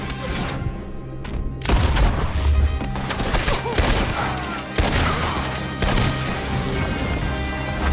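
Gunfire in the western game Red Dead Redemption 2 during a shootout, a dense run of loud cracking shots and impacts over about eight seconds, with a few sharp louder bursts standing out.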